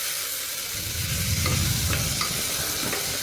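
Ginger garlic paste with turmeric fries in a pan while a spoon stirs it, a close steady sizzle with scraping strokes through it.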